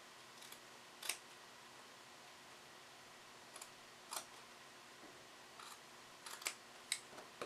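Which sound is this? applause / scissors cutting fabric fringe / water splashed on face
scissors cutting fabric fringe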